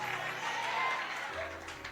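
A church congregation claps and cheers in praise, the applause a dense, sustained patter of many hands mixed with crowd voices over a couple of seconds.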